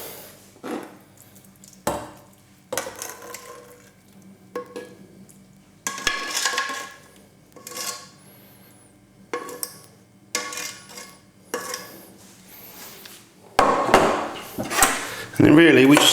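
Meat sauce mixture for spaghetti being stirred in a pan with a little olive oil, giving repeated scraping clinks of a utensil against metal in irregular bursts, louder and busier toward the end.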